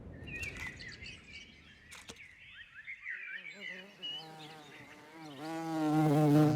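A swarm of wild honey bees gathered on a branch at the edge of a forest, with a buzzing hum that rises and swells in loudness, mixed with scattered chirps and high calls.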